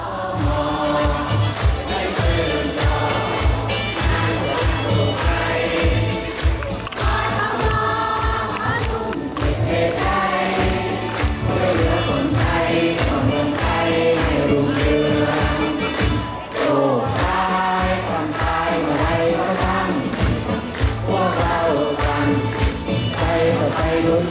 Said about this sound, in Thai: พี่น้องอสมอปรบมือและร้องเพลงมาร์ชเพื่อแสดงพลังความสามัคคีของอสมอให้การต้อนรับ